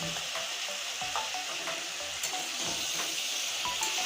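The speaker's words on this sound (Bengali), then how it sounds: "এবার শুদ্ধ করে নেড়ে নিলাম" Mixed vegetables with turmeric and coriander powder sizzle steadily in a hot pan as a spoon stirs them, with a few sharp scraping clicks over a constant frying hiss.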